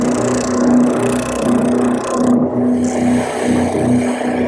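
A scroll saw with a small blade cuts through tiger maple, a steady close buzzing hum with a rhythmic reciprocating rasp that swells and eases slightly as the cut proceeds.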